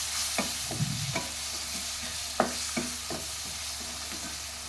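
Masala with two medium tomatoes frying in a pan for soybean gravy, a constant low sizzle with repeated spatula scrapes and taps at an uneven rhythm, close and without talk.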